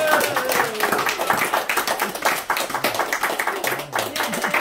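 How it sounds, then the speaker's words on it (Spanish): Family members at a birthday celebration applaud in a burst of quick, close clapping that runs for several seconds, with voices mixed in. "Un aplauso."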